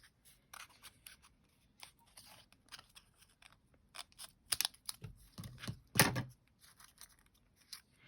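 Scissors snipping paper roses for a shabby chic card, a few short crisp cuts and clicks that cluster toward the middle with light handling noise between them, close and fairly quiet, with no voice.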